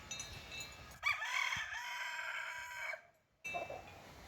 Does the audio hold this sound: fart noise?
no